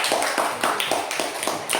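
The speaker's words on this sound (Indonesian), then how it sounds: "Tepuk tangan buat kelompok" Students in a classroom applaud a presenting group with quick, regular unison claps, crisp and close, repeating at a brisk steady beat for the whole moment.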